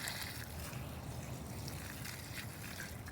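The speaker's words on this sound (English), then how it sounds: "I'll go ahead and give this one a little bit more water." Water trickles steadily onto a garden plant, a soft, continuous close splashing with no voices.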